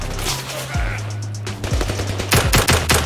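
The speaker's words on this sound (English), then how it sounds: "who the fuck is shooting at me?" Rapid bursts of gunfire crack close and loud in the Zero Caliber VR shooter, with single shots and short automatic volleys mixed together over a few seconds.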